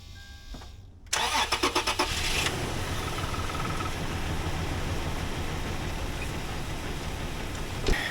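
Key turn on a 2003 Toyota 4Runner with a bad head gasket: a short run of rapid starter cranking catches and the engine fires, settling into a steady, loud idle rumble that carries to the end.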